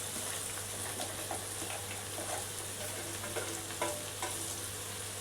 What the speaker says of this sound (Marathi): हळद घातल्यानंतर आपली भेंडी घालायची.